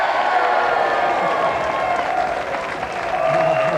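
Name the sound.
studio audience applause for the winner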